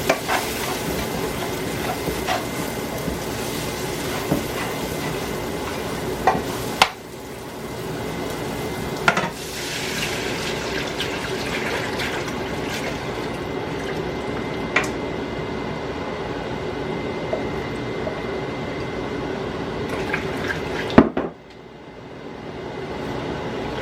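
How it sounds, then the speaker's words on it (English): Cornstarch is stirred into gravy in a pan over a steady sizzle, with utensil scrapes and occasional knocks against the pan and a quieter stretch near the end. "you can sure to take the cornstarch or the flour and just dump it in here and stir it"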